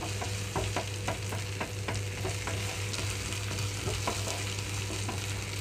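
Ginger garlic paste frying over a medium flame for a fresh coconut chana dal curry, a soft continuous sizzle broken by repeated ladle stirs and scrapes against the pan, with a low steady hum underneath.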